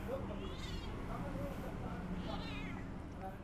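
An orange cat meows a few times, its rising and falling cries cutting through steady background noise and nearby talking.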